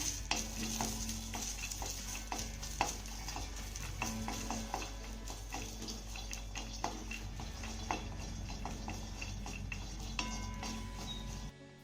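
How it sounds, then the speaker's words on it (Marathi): Peeled garlic and green chillies roast in a pan for a village-style cluster bean thecha, a steady close sizzle broken by frequent light scraping and ticking from stirring, with no voices. "घातलेला लसूण आपल्याला एक मिनिट भर चांगला भाजून घ्यायचा आहे"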